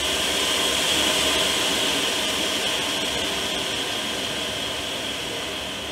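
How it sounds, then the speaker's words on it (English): Part-cooling blowers on a 3D printer with magnetic independent dual extruders, running at maximum speed, give a steady, loud rushing hiss of airflow that holds constant throughout with no talking. "This is the maximum speed that the blowers or the controller is set up for."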